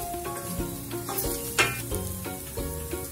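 Slit green chilies hit hot oil in a pan during egg biryani prep, raising a steady sizzle with clinks and scrapes of stirring on top of a soft melodic background.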